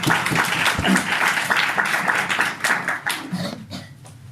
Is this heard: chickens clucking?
no